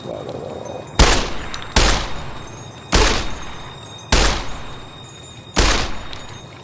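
Five loud, sharp gunshots ring out about a second apart, each with a short echoing tail, fired at bloat flies in the Fallout New Vegas video game in hardcore mode.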